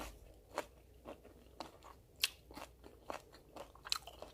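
Crisp crunching bites of gizzard shad sashimi salad, about eight distinct crunches spaced irregularly, close and quiet against a silent background.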